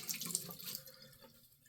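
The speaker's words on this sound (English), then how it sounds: "So let's get rinsed off here" Water runs from a bathroom tap to rinse off after a wet shave with a Parker 78R razor, a short, faint splashing trickle with no voices.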